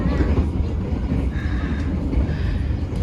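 Kertajaya passenger train running on the Jakarta–Surabaya line, a steady close rumble of wheels and carriage noise heard from inside the coach, continuous for a few seconds with faint talk in the background.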